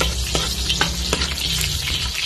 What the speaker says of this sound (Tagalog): Manggisa na po tayo.